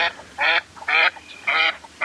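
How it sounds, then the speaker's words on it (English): Three evenly spaced nasal quacks from a female northern pintail duck in flight, played back from a phone app, clear and close with short pauses between calls. "we have also in this app here the female flight quacks"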